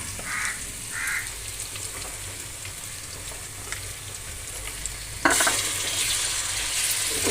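Marinated chicken hitting a hot pan for biryani, starting as a steady close sizzle and frying, then jumping to a louder, brighter sizzle as more chicken goes in, with no talking.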